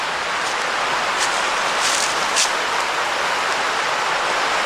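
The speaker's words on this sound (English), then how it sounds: "you can fall asleep to the sound of the creek every night" Creek water flows steadily beside a hiking trail near houses, a constant broadband rushing with a few brief splashy bursts, close and even throughout.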